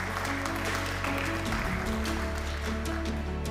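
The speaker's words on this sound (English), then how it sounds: "a big round of applause while he is coming on stage" Audience applause at the Danube Salon of the Europa-Forum Wachau 2022, a steady wash of many hands clapping filling the hall as a speaker walks on stage, with a low hum underneath.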